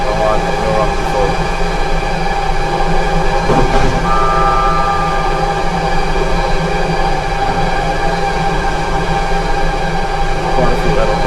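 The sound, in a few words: train running on Tokaido Line in JR East Train Simulator video game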